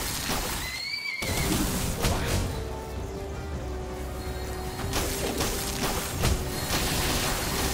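A horse in the video game Palworld lets out a short, high whinny near the start, over a steady wash of in-game ambient noise and mechanical rumble that runs throughout.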